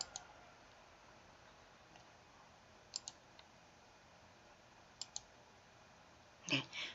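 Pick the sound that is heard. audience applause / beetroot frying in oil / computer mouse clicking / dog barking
computer mouse clicking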